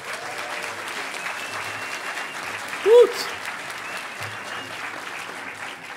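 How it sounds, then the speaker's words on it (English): Audience applause at the Hackers On Planet Earth 2012 closing ceremonies, a steady dense clapping from a crowd sustained throughout, with a brief loud whoop cheered near the middle. "Give them a round of applause."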